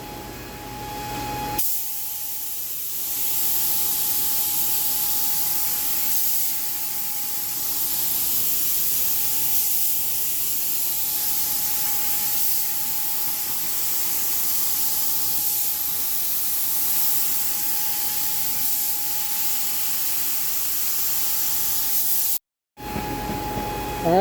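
Steady, loud hiss of a spray gun spraying sealer at 30 PSI onto a Corvette hood, running continuously for about twenty seconds, with a brief cutoff near the end before spraying resumes.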